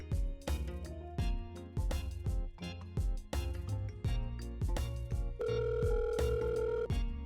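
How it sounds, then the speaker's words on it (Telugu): A phone rings on and on without being answered, its ringtone pulsing in regular, loud, tonal bursts with a sustained note near the end and no talking. "ఫోన్ లిఫ్ట్ చేస్తలేదు కదన్నా"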